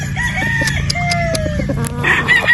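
A gamefowl stag crows with a drawn-out, strained call over steady clucking and murmuring of other fowl close by.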